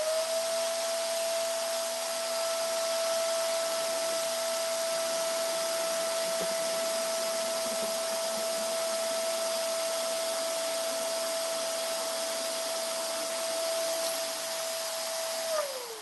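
An electric pump inflates a large balloon with a steady, loud whirring drone and a constant high whine, running unbroken until it winds down at the very end.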